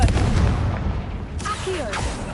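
A Confringo blasting spell goes off in Hogwarts Legacy, bursting with a sharp, booming crack over steady game ambience, followed by brief whooshing, crackling magical tails.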